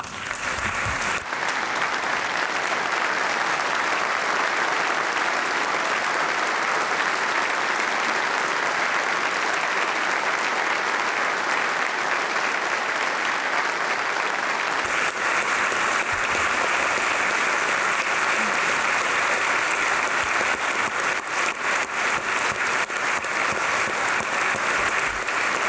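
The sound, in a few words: audience applauding first responders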